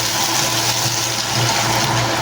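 Water is poured into a pot of pinakbet vegetables such as squash, eggplant, long beans, okra and bitter melon, making a continuous close gushing rush with no talk.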